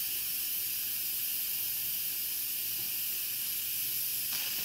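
An Instant Pot pressure cooker releases steam during a low country boil with crawfish. It makes a continuous, even, fairly loud hiss from start to end, with no speech over it.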